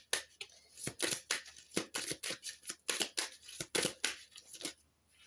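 Oracle cards are shuffled and handled in a rapid run of crisp, close papery swishes and flicks, steady and rhythmic with no talking.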